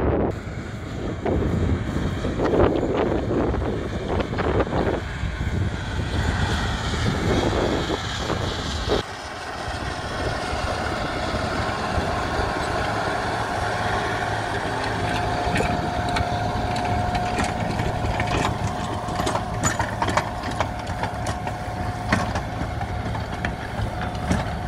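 A Case IH 2594 tractor labours while pulling an 8-bottom plow in a field, its engine a steady distant drone under heavy wind buffeting on the microphone, with a brief dip midway.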